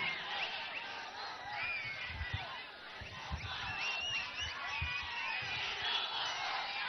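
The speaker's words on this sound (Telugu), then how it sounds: "మీ ఉత్సాహం, మీ అరుపులు, మీ కేకలు" Dense crowd at an outdoor political election rally in Andhra Pradesh, with steady shouting, whoops and cheering that stays loud and continuous throughout, with no single voice standing out.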